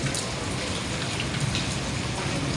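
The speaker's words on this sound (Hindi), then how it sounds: "कराची की ना पहली बारिश," Heavy rain falls steadily in Karachi, the first rain of the season, a dense even hiss of drops spattering on surfaces, close and continuous with no voices.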